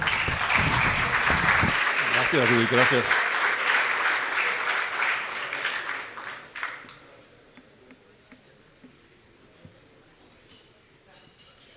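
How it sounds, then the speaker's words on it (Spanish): An audience at an international technology forum in Mexico applauds a speaker, loud and sustained for several seconds before fading, with a voice speaking over the clapping and continuing after it dies down. "Aplausos para él, por favor."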